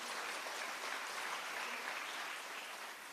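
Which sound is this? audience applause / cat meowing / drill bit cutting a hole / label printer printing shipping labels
audience applause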